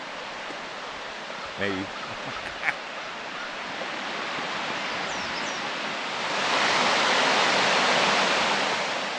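A small waterfall on the rocky Lake Superior shore at Copper Harbor makes a steady broadband rush that swells noticeably louder near the end. A person speaks briefly early on.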